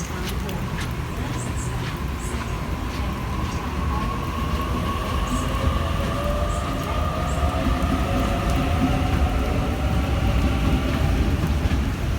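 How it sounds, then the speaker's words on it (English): A Sydney Waratah train rolls into Redfern station in the rain, a loud continuous rumble with rising and falling wheel whine and squeal as it slows. "And Waratah arriving."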